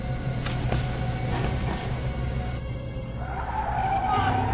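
A car drives up with a continuous rumbling, rolling drone that swells slightly near the end, alone without voices.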